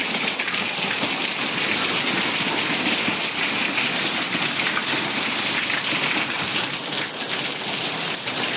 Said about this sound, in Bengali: এই যে দেখো এত বৃষ্টি পড়ছে না